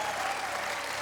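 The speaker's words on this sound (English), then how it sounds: "Give him a round of applause." Television studio audience applauds, a brief, continuous wash of many hands clapping at moderate level with no gaps.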